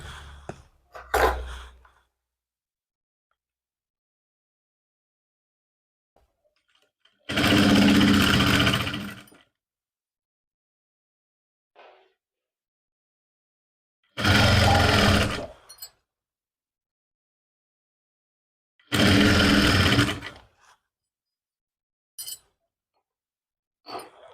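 Sewing machine stitching the neck strip of a lined suit, three short, loud runs of rapid stitching spaced apart by long silences, with a few faint clicks between.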